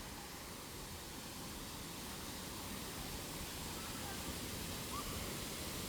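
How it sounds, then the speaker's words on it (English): A river waterfall at Llanos de Cortés, Costa Rica, makes a steady, broad rushing roar, distant and soft, continuous throughout. "Let's go check out the waterfall from this angle"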